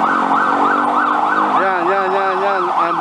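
A wailing emergency siren from an ambulance or fire truck passing near a fire scene, loud and continuous, its sweeping rise-and-fall pattern shifting to a faster yelp partway through, with road traffic beneath.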